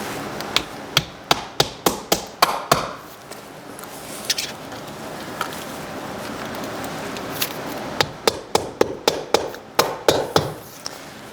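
Nails hammered into wooden window moulding during insulation of a window, two bursts of rapid, sharp close hammer blows, about a dozen strikes each, separated by a quieter pause with light handling noises.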